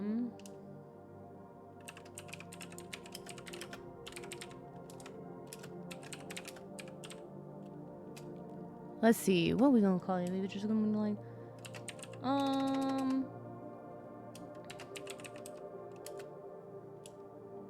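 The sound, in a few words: typing on a computer keyboard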